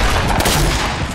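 A loud burst of gunfire in a battle royale video game, a close, dense crack that fills the short moment with heavy boom before trailing off.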